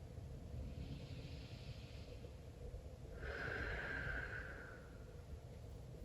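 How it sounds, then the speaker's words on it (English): A deep breath during a yoga stretch: one long, airy, slightly rasping inhale that swells and then fades, close and quiet in a still room. "Take one more breath."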